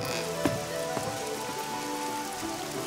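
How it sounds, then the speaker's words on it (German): Steady rain patters outside in the fantasy role-playing game Nehrim, a continuous soft hiss of drops with a couple of brief sharper knocks near the start. "Da draußen regnet's doch."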